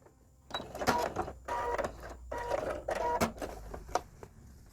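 Home sewing machine stitching a homemade fabric face mask with tie strings, sewing a double seam with backstitching; several bursts of rapid mechanical whirring and clatter, close and fairly loud, separated by short pauses.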